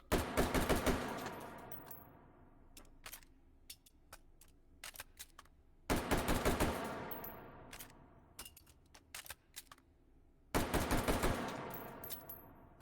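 An AR-15 cut down to pistol configuration fires three loud, rapid strings of shots separated by pauses, with sharp mechanical clicks and clatter in the gaps.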